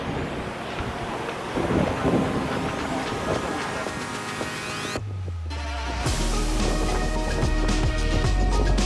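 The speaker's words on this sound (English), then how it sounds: "it is so incredibly windy" Strong coastal wind on Oahu, Hawaii, buffets the microphone in a constant roaring rush, dropping out briefly partway through before the gusting noise returns.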